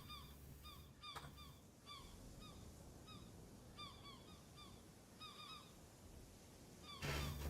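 Seagull calls in the video game Escape The Pacific: repeated short, bright squawks in loose clusters over a steady surf-like wash, with a louder burst of noise near the end.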